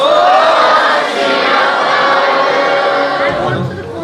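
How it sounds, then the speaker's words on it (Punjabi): A crowd at a Sikh gurdwara religious competition answers with a loud, massed shout of the jakara war cry, many voices together and close, sustained for a few seconds before fading out. "ਇੱਕ ਜਕਾਰਾ ਫਿਰ ਸਾਰਿਆਂ ਦੀ ਆਵਾਜ਼ ਜ਼ੋਰ ਦੀ ਆਣੀ ਚਾਹੀਦੀ ਹੈ। ਬੋਲੇ ਸੋ ਨਿਹਾਲ।"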